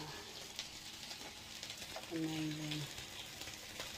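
Courgettes and belly pork sizzle and crackle steadily in a hot stir-fry pan, with the scrape of stirring and brief clinks, while a person talks quietly over the cooking.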